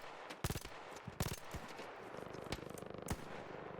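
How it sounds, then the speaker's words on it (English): Grenades going off repeatedly in an online shooter game: several sharp, punchy blasts at uneven intervals, with a rapid rattling volley partway through, all fairly faint beneath a dense, noisy game soundscape. "They're throwing tons of grenades on it."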